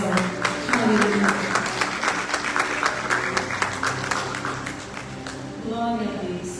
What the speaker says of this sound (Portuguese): Se você puder, aplaude o Senhor com todo o coração.